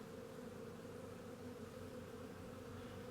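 Honey bees buzz continuously around a queen bee in a colony found under a floor, a dense, steady, close-up drone with no voices.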